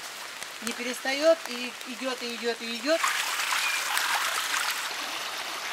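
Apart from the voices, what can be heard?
rain falling during a flood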